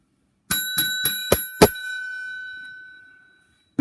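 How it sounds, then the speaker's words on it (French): A small bell rings five quick times in a steady rhythm, close and bright, the last strike left to ring out and fade over about two seconds before near silence. "on se tait, on écoute bien, juste après la petite sonnette."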